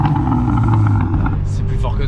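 A Renault Megane RS with the F4RT engine revving, a loud close low rumble holding steady, with people talking over it.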